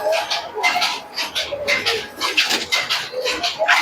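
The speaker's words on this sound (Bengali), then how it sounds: "একদম ফ্রেশ কবুতর আছে" Giribaz pigeons coo nearby in soft, repeated throaty pulses that overlap one another. A voice is faintly heard now and then.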